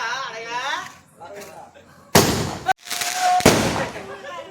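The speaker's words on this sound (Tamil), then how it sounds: "வெட்றா பட்டாச." Firecrackers burst during a street celebration of India's T20 World Cup win, with two sharp, loud cracks close by amid excited shouting voices.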